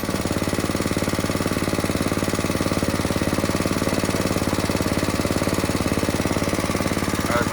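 A small engine on a VM22 clone carburetor with a 145 jet idles steadily on a Coleman powersports machine, a loud, close, fast even chugging pulse that holds without break and with no talk.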